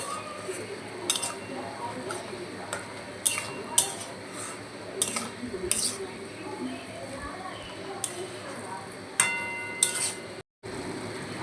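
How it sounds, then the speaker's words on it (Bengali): Grated paneer stirred into masala in a pan for dhaba-style paneer, giving soft scraping with repeated metallic clinks of a spoon against the pan, steady and close. "এবার মশলার সঙ্গে পনিরটা মিশিয়ে নিচ্ছি।"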